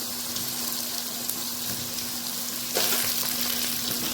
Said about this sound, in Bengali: ছোট্ট ছোট্ট ডুমো ডুমো করে কেটে রাখা আলু দিয়ে দিলাম।